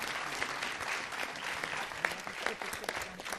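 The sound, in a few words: audience applause at a city council meeting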